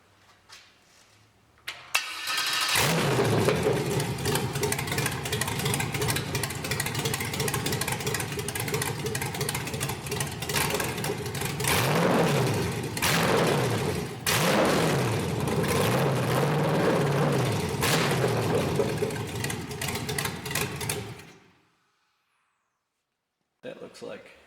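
A 5.3L LS truck engine is cranked and fires up, then settles into a loud, steady idle with a few rev swells. It shuts off abruptly before a short silence and a faint noise.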